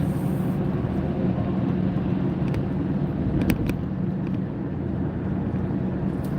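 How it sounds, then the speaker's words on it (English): Car accelerating through a lane change on a highway near a tanker truck, a steady loud engine and road roar heard from inside the cabin, with a couple of brief clicks. "accelerate through that lane change because I do not want to be near this tanker truck"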